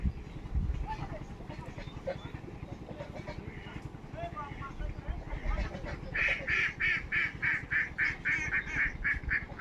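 A flock of geese honks in rapid, repeated bursts under someone talking, growing louder and more insistent toward the end.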